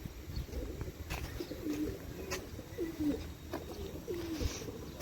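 Pigeons coo repeatedly on a rooftop amid newly bought birds, soft low warbling calls recurring every second or so against steady background noise, with faint wing flaps.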